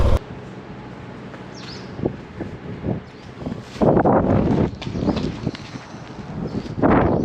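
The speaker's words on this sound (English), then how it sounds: "It's very windy." Gusty wind buffets the microphone in loud, uneven bursts at a motorcycle campsite, with rustling and light outdoor noise between the gusts.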